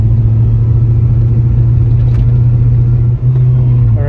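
A Ford Fox Body Mustang driven slowly at low speed, a loud, steady engine drone and road rumble heard from inside the cabin with little change in pitch.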